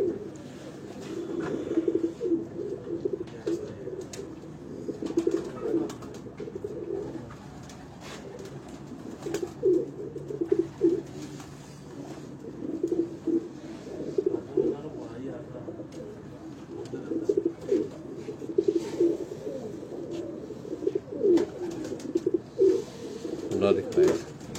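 Breeder pigeons coo repeatedly in soft, throaty rolling phrases, close by on a Lahore rooftop, while people talk over them.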